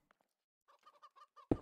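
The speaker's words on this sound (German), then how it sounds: "hört ein Huhn" A chicken in the modded Minecraft pack FTB Revelation gives a run of quick, soft clucks followed by one loud, sharp squawk at the end, with quiet gaps before the clucking begins.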